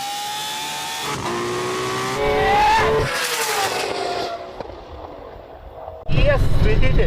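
A slightly damaged Nissan Skyline R33 races a Lamborghini, engine note climbing through loud revving pulls with a brief tire squeal, then easing off before another burst of close, roaring acceleration near the end.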